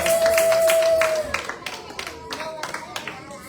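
A church congregation applauds after a sustained tone fades, with scattered claps popping irregularly at moderate loudness.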